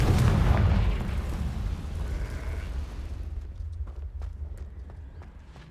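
A Confringo spell explosion in Hogwarts Legacy bursts loudly with a deep boom at the start and rolls off into a fading rumble, followed by scattered light clattering taps.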